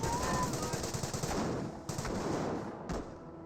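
Dense gunfire in the real-time strategy game Company of Heroes, with rapid machine-gun bursts and overlapping shots forming a loud, continuous clatter that briefly dips twice.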